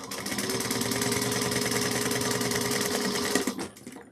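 Sewing machine stitching a fabric bucket bag, a fast steady mechanical whirr running close and loud for several seconds before stopping abruptly.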